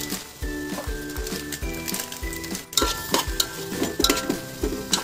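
Masala roasting in a pan for chicken biryani: a metal spoon stirs and scrapes against the pan in a steady rhythm, with clinks and a soft sizzle underneath, close and moderately loud, with no one talking.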